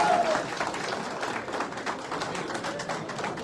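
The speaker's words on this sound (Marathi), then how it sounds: "सर्वांनी टाळ्या वाजवा आपल्या समोर लोकांसाठी." An audience at a political youth gathering in Thane applauds, steady, moderately loud clapping from a crowd that continues throughout.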